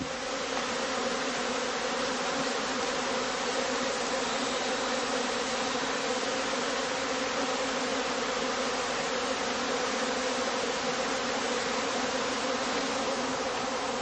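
Honeybees swarm around straw skep hives on open heathland, a dense, steady buzzing drone of many insects that holds constant throughout, moderately loud with no voices.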